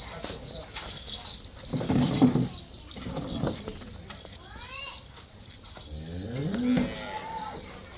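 A cow on a dairy farm moos twice in long, drawn-out calls, with people talking in the background and steady farmyard noise throughout.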